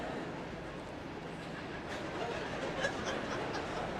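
Freight train passing outdoors near a university commencement ceremony, a distant steady low rumble and rattle that swells slightly, with faint chuckling from the audience.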